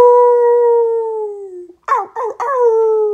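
A wolf in the woods gives a long, steady, wavering howl that slowly sinks in pitch, breaks off, then follows with a few short yipping cries before a final held note, loud and close with no talk.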